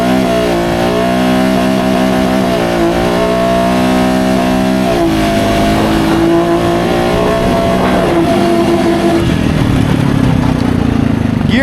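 A Honda Rubicon DCT ATV on 30-inch Aztex tires launches hard in first gear, its engine loud and close, pitch climbing and stepping up through quick, closely spaced gear changes with no talking.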